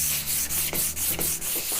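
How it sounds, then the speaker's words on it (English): Sandpaper rubbed back and forth across a carved wood surface, a steady run of close, even scratchy strokes with a brief sharp scrape at each change of direction. "just give it a nice sanding across the surface"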